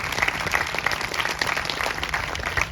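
Audience applause at a Blue Ribbon School ceremony at an elementary school, a dense crowd of hands clapping steadily for the whole stretch, moderately loud in a large space.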